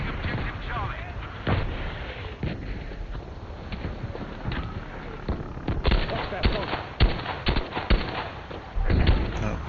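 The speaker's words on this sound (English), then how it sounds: "Oh, there's artillery here." Artillery shells exploding nearby in a war video game on the Fjell map, heavy thuds and cracks arriving at irregular intervals and growing denser and louder toward the end, with faint talk underneath.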